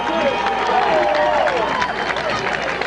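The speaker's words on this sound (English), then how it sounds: "I didn't hear what he said, but I got a response from the crowd somewhere." Crowd at a 1994 high school football game stirring in response, a broad murmur and scattered cheering with some clapping, mixed with an announcer talking over it.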